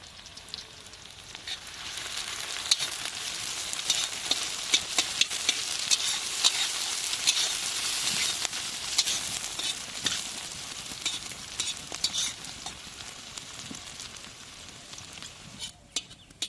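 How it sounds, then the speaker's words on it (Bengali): Chopped onion fries in a pan with cinnamon, cardamom and cloves for a village-style egg pulao, giving a loud, steady sizzle with frequent scraping stirs throughout. "পেঁয়াজ ভাজা হয়ে গেছে"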